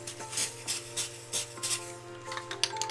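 Short hissing bursts from a shaken aerosol spray can aimed at a pastel drawing on paper, repeated puffs at a steady rhythm, close and fairly soft.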